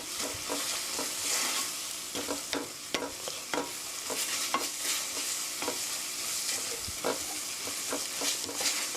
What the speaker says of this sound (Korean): 두반장도 같이 볶아주세요.